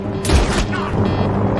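A gunshot in a movie thriller about a hitman on a plane bursts out as a loud, booming crack with a short echoing tail, and lower rumbling follows.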